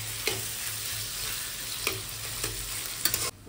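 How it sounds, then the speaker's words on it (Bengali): Onions frying in a kadai for a Bengali prawn curry with curd, heard as a steady close sizzle with a few sharp stirring scrapes and no voices. "পেঁয়াজটা আমি ভাজি"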